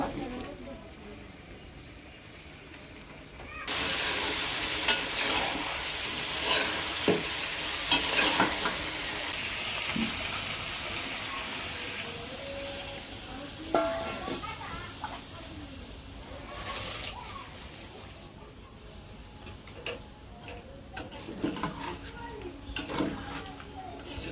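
Mutton frying in spice masala in a village kitchen, a loud sizzle that flares as the meat goes in, followed by repeated scraping and stirring against the pot, with some talk in the background.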